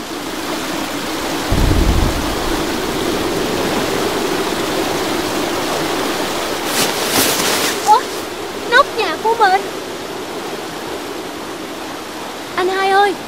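Cartoon storm with steady rain and a low thunder rumble early on, loud and continuous, followed by whooshing gusts and a few short chirping tones.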